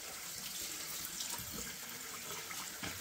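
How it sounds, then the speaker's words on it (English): Steady running tap water splashes into a kitchen sink while turkey cavities are rinsed out, a continuous close gush with small splashing fluctuations and no talk. "Wash all these cavities out real good."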